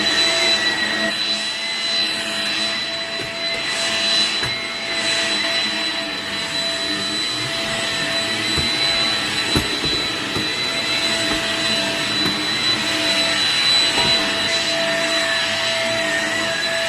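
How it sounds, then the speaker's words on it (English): A household vacuum cleaner runs with a steady, loud, close whining drone throughout, with its pitch and intensity shifting slightly as it moves, and no talking. "I'm gonna vacuum."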